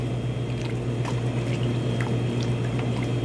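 Collard greens soup thickened with a roux being stirred in a pot over raised heat, a steady wet squishing and bubbling that stays close and even throughout with no voices.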